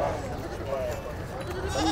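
A goat bleats briefly at a livestock market, a wavering cry close by, with people talking throughout.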